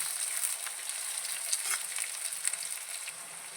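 Long-sliced onions frying in a pan, a steady close sizzle with a faint crackle throughout.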